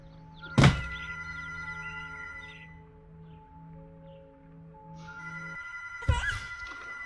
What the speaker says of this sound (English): Go get the phone.